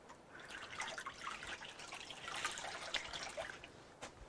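Cool water is poured onto a person's feet during a hydrotherapy treatment, a soft continuous trickling and splashing, close and quiet, lasting a few seconds.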